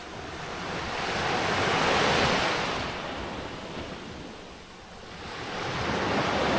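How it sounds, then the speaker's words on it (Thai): Sea waves roll onto the shore at a beach campsite on Koh Chang in the morning, a steady broadband wash that swells and eases in long surges, with wind noise on the microphone and no voices. "แล้วตรงข้ามก็เป็นทะเลนะครับ"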